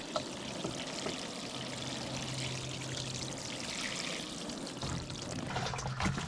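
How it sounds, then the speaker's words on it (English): Water is poured onto the top of a barrel in a backyard pepper nursery, a steady splashing stream lasting several seconds, fairly faint and continuous with no talking. "I'm going to pour some water on the barrel top."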